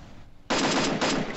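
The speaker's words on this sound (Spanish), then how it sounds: "Yo le disparo al que está atrás." Rapid automatic gunfire bursts loudly in a shooter video game, a dense sustained volley of shots lasting about a second after a brief quieter moment.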